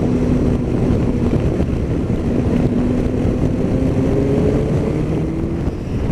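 A Yamaha Tracer 9 motorcycle riding along a road on a test ride, its steady engine drone mixed with heavy wind rush across the microphone, continuous and loud throughout with no talking.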